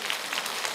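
A short burst of audience applause fills a lecture hall, a dense, even patter of many hands clapping together.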